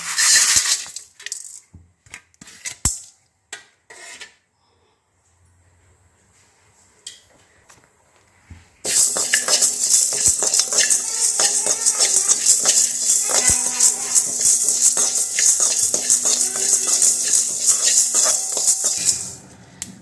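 Ajwain and poppy seeds dry roasting in a pan without oil: a few light metallic clinks at first, then after a quiet pause a loud, steady crackling sizzle of popping seeds that continues to the end.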